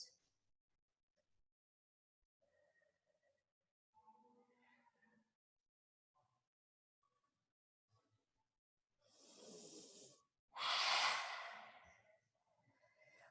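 Slow, deep breathing during a yoga session: a quiet room with faint movement, then two long, loud breaths, a soft inhale and a stronger sighing exhale, close to the microphone.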